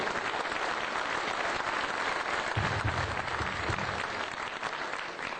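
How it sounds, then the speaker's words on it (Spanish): A crowd at an assembly in San Ildefonso applauds steadily and loudly throughout, a dense wash of clapping hands with no pause. "me permito desde aquí pedirles un aplauso para mis compañeros"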